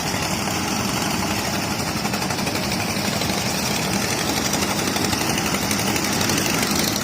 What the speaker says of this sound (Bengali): এই যে বালু উত্তোলন করতেছে